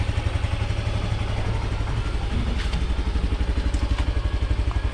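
A motorcycle engine idles steadily nearby during an oil change, its low rhythmic chugging continuous with faint metallic clatter.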